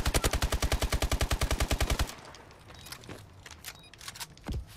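Rapid automatic gunfire in the shooter game Advanced Warfare, a loud, evenly spaced burst of about twenty shots lasting two seconds, followed by quieter clatter, footsteps and a distant thump.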